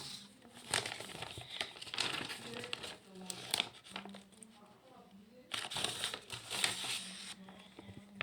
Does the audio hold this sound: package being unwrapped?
yes